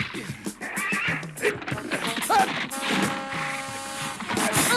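A horse neighs and whinnies with rising, wavering calls amid thuds and clatter, fairly close and loud, with voices talking over parts of it.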